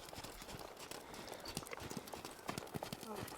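A horse's hooves clip-clop while it works cattle, soft and uneven footfalls under a trainer's instructions.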